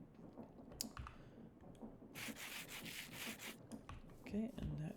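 Sandpaper polishing in the Minecraft Create mod makes soft, faint rubbing scrapes that come in short repeated bursts with quiet gaps between them.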